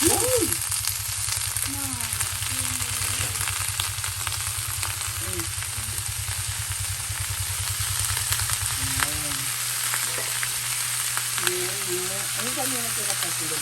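Garlic sautéing in olive oil hisses in a steady, loud sizzle close by, with a low hum underneath and brief voices talking over it.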